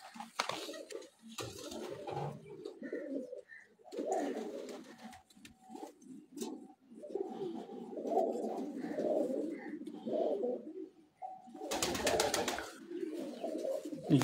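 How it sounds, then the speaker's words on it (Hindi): Pigeons coo nearby on a rooftop in soft, low, repeated rolling calls, with brief fluttering and rustling in between. "ये कबूतर अभी आए हुए हैं ऊपर बैठे हुए हैं"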